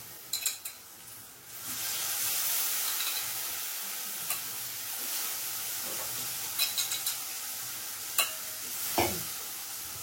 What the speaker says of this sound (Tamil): கருவாடு எடுத்து போட போறோம்.